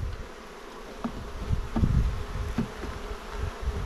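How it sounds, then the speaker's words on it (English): Honey bees swarming around a timber hive box while being shaken out, a continuous close buzzing hum with a few soft thuds and knocks from the wooden frames. "Now I'm going to shake these bees from this timber box out the front."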